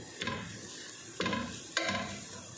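Onions sautéing in a pan for Salona Laham, with a soft steady sizzle and three distinct scraping stirs of a utensil against the pan, fairly quiet and close.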